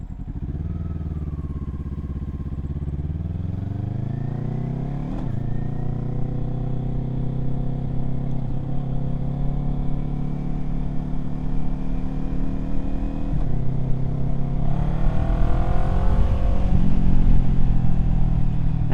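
Kawasaki Z400 motorcycle riding on the road, a steady engine drone with harmonic tones that climb and settle through gear changes, rising louder near the end as the bike accelerates, no talking.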